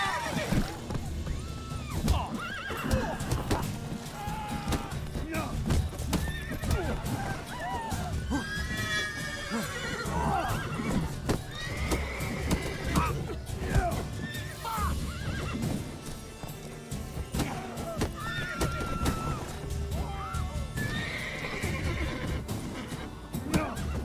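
Horses in The Witcher 3 neigh and whinny again and again over clip-clopping hooves, with a busy game mix running steadily underneath.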